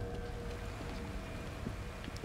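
Heavy rain pouring down in The Evil Within outside a creepy building: a steady, faint wash of rainfall with light patter, continuous and even throughout.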